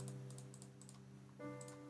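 Rapid keystrokes on a computer keyboard during a timed Monkeytype typing test, a steady run of light clicks under a constant background hum.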